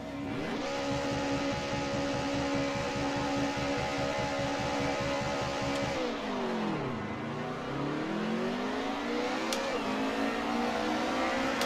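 Several BMW touring car engines in Assetto Corsa, a World Touring Car Cup race at Portimao, hold a loud, steady high rev together on the grid, then dip and climb in pitch as the cars launch and pull away.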